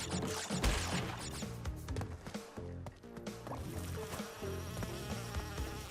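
Bees buzz in Crash Bandicoot N. Sane Trilogy, a droning insect hum woven through busy game music and sound effects, steady for several seconds with no talking.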